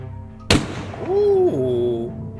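A single sharp gunshot cracks loudly from a short film, followed by a voice rising in a drawn-out tonal cry that fades away.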